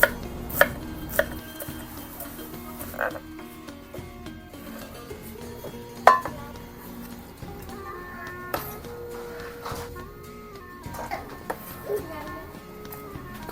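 A knife chops and slices vegetables for a spicy Thai dish with fresh liver, a few sparse, sharp taps spaced out under steady speech from a man.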